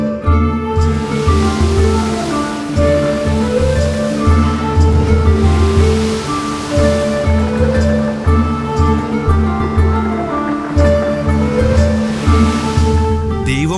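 Sea waves surge and break continuously on Manapad beach in Tamil Nadu, a loud, full roar of surf with rolling swells and no voices.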